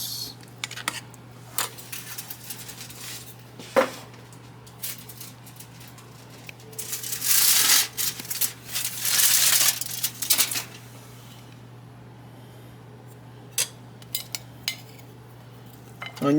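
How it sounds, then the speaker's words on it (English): Chopped onions and peppers tipped into a crockpot of black bean beef chili, a cluster of rattling, clattering pieces and utensil scrapes in the middle, with sparse clicks and knocks around it over a low steady hum. "I'm gonna add my onions and peppers"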